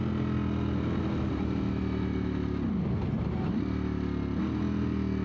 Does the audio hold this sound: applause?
no